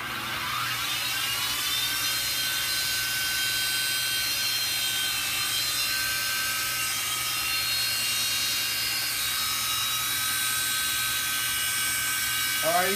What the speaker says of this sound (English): he's gonna grind on a little piece of mild steel here just to show you how the thing works